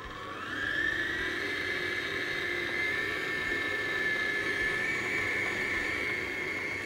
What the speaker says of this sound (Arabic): هشغل العجان وانزل اللبن الرايب بالتدريج